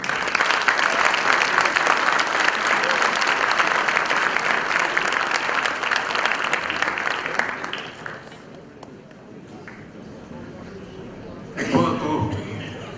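Loud, dense applause from a conference audience at a technology congress fills the room for about eight seconds, then fades to scattered clapping and quiet, with a brief renewed burst near the end.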